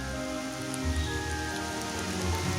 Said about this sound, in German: Generell ist der Regen eine wunderschöne Zeit, Bilder und Filmaufnahmen im Wald zu machen.